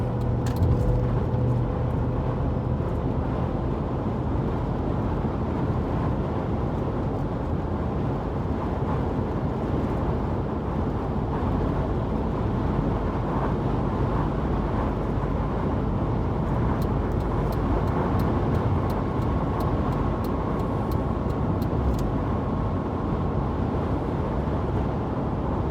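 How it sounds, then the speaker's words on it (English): Slow-moving road traffic, a continuous low engine and tyre rumble that holds steady for the whole stretch, with no voices. "it's very slow traffic here"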